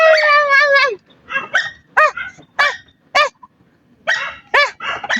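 A dog nearby lets out a drawn-out whine, then a series of sharp, loud barks in short irregular bursts separated by brief pauses.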